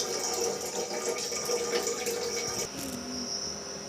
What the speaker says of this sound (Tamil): இப்போ தண்ணி இல்லாமல் நல்லா வடித்து எடுக்கணுங்க